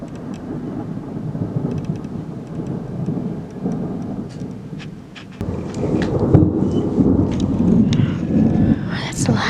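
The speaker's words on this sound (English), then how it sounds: "Oh, Phoenix watching the thunderstorms." Steady heavy rain with deep rumbling thunder rolling underneath, growing louder about halfway through, with faint voices murmuring in the background.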